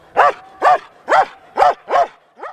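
A police dog in Spanish police dog training barks six times in a steady, evenly spaced rhythm, each bark loud, close and clear.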